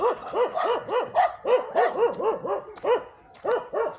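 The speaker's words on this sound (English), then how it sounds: "You gotta love dogs, haven't you?" A dog barks over and over in quick, steady bursts, loud and close, with short pauses between the barks and no one speaking.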